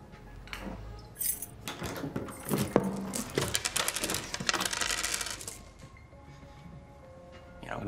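Keys jangle and clink continuously for several seconds in a quiet room, metallic rattles rising and falling in bursts before fading out.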